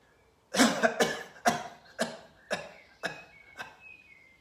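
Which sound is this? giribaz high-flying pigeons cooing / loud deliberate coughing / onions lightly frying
loud deliberate coughing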